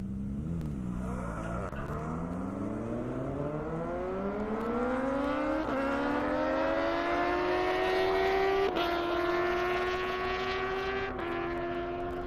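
A drag-racing car, a Supra among them, screams down a half-mile airport airstrip, its loud engine note rising steadily through several sharp gear changes as it accelerates hard and close.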